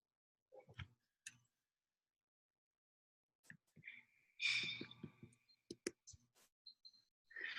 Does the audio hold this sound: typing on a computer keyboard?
yes